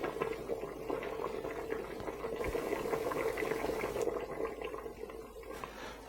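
A pot of sausage potato soup with kale bubbles steadily on the stove, a soft, continuous burbling simmer with occasional small pops, close and fairly quiet, with no talking.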